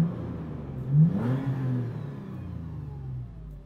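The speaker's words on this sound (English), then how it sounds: "Take a quick listen to that TRD exhaust" Exhaust of a 2020 Toyota 4Runner TRD rising in a brief engine rev, swelling near one second before settling back into a low, steady rumble, close and fairly loud with no talking.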